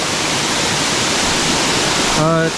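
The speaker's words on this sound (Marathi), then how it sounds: "हा धबधबा आमच्या इथलाच आहे खूप उंचावरतून पडतो आहे" A high waterfall near Asud village in the Konkan roars in a dense, unbroken wash of falling water close at hand, with a brief voice breaking in at the end.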